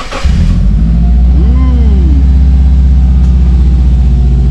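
A Subaru Forester XT with a stage 2 tune and TD04 turbo idles right after startup, a loud, close, steady low rumble with a brief rising whine partway through.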